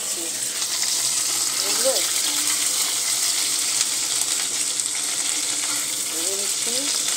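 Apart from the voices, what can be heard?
cauliflower frying in a pan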